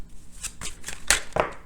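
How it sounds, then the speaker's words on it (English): Near and soft, a deck of tarot cards is cut by hand, giving a few quick papery swishes and slaps spread over a moment, with no one speaking. "we're just going to cut the deck and pull."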